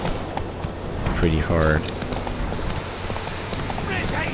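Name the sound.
horse galloping through forest in The Witcher 3 video game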